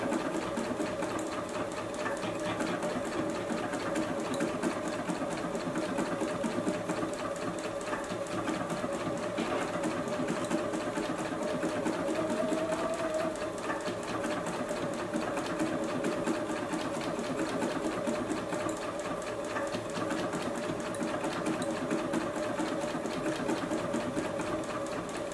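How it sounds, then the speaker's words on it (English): A JUKI sewing machine runs continuously while stitching a fabric beverage coaster, giving a steady, even, close whir throughout. "Making sure that you keep that needle right on the line as it stitches"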